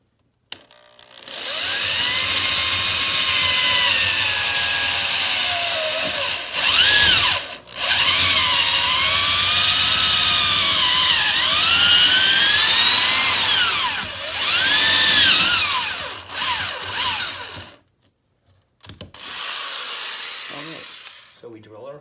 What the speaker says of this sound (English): so we drill our hole.